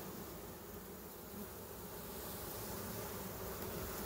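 Honeybees from a shook swarm make a steady, dense buzzing drone that stays level and continuous throughout, with no voices.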